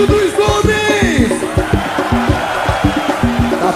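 Men in a large concert crowd at the Montreux Jazz Festival shout together in loud, rhythmic bursts, a chanted call repeated in a steady beat with cheering underneath.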